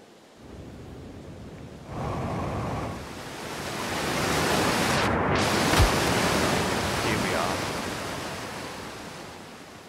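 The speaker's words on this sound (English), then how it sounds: "And the bridge seems to end in a waterfall." Waterfall in the space exploration game Outer Wilds, a broad steady roar of rushing water that swells and holds loud and full, with a brief whoosh near the middle.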